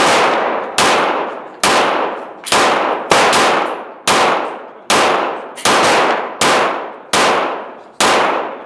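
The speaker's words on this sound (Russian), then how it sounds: "Сейчас я стреляю" A CZ 75 Tactical Sport pistol fires eleven loud, sharp shots at a steady, unhurried pace, each crack ringing out with a short decaying tail and no voices in between.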